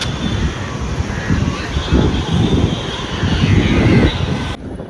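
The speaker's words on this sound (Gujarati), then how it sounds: "મસ્ત પવન આવે છે ઉપર, ઠંડો ઠંડો." Cool wind gusting across the rooftop of a tall building, a loud, steady broadband roar with swelling buffets that rise and fall over several seconds.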